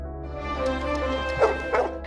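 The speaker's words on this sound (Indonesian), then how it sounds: "pasti anjing dia akan menggonggong, dan ternyata benar" A dog barks and yips repeatedly in a scene from the 2014 film White God, several sharp close barks over a low steady hum, with faint whimpering tones between them.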